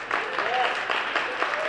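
Applause from the audience at a mayor's district budget town hall meeting, a short burst of clapping with a voice talking over it.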